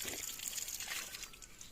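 Small stream in a village, its water trickling and babbling steadily at close range, a soft continuous wash with no voices over it.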